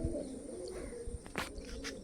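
Racing pigeons cooing softly in a loft, a low steady burble with a couple of brief sharper rustles or wing flicks, fairly quiet and without talk.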